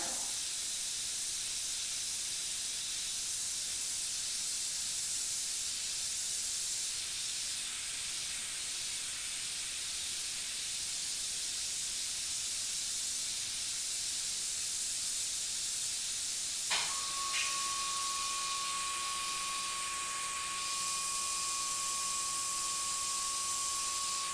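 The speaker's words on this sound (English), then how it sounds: "I've got some white in the airbrush, so we can come in and create our highlight." An airbrush sprays white paint for eye highlights, giving a steady, fairly quiet hiss throughout, with a faint whine in the middle range and a brief click near the end.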